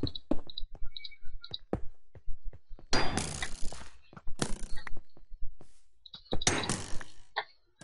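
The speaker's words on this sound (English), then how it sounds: "Ow, I'm getting shot up now." Arrows striking a player in a medieval combat video game, heard as a few sharp clanging, clicking impacts mixed with bursts of noisy crunching hits.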